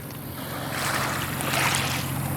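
River waves washing onto a shore along a road near Alton, Illinois, a soft rushing swell that builds and peaks twice with faint wind over a low steady background, no voices.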